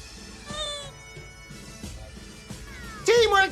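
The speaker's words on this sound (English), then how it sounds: "Cat is here." A cat meows several times in a PS5 game, short tonal cries spaced apart and then a louder, rising yowl at the end, over quiet game background sounds.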